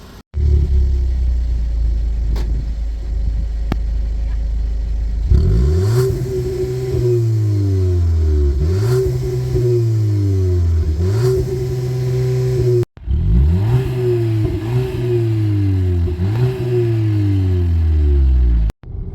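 A Volkswagen Polo GTI with its 2-liter engine pulls hard along a twisty road, loud revs climbing through the gears with brief drops at each shift, continuous engine drone up close.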